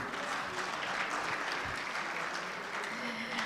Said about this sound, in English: Could we give him another round of applause, please?